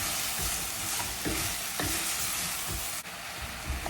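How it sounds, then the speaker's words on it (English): Roasted coriander and cumin powder being stirred in a hot pan, a steady sizzle punctuated by several rhythmic spoon scrapes, near and with no one speaking. "Blending everything together."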